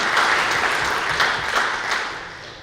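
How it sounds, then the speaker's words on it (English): Audience clapping at a company team celebration event, a loud, dense burst of applause that fades out over a few seconds. "let's again the claps for our success celebration given the hard time"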